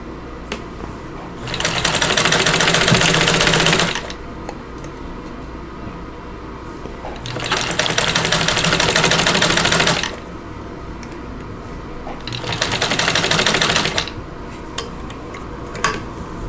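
A vintage Singer 15-90 sewing machine stitches in reverse on a very short stitch length, giving three loud, fast whirring bursts of about two seconds each, separated by quieter pauses with no voice.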